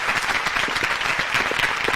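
A crowd gives a steady round of applause for the LA Dodgers, dense and continuous clapping that holds evenly from start to finish.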